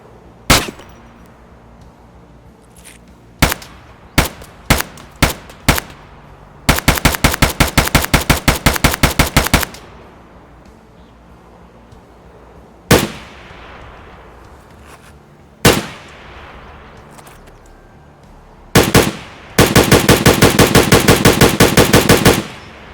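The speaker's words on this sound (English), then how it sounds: "The 209 has a much louder pop or a bang to it, and the 136 has a much more quieter, more of a sustained suppressed shot" Game-rendered AKM-style rifle fire in Escape From Tarkov, alternating between a VPO 209 and a VPO 136: several loud single shots, then sustained rapid bursts, repeated across the stretch with quiet gaps between.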